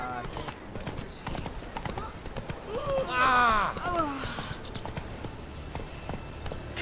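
Roach the horse's hooves clopping in The Witcher 3, a steady rhythmic beat of hoofs close by under a voice, with a whinny rising in the middle.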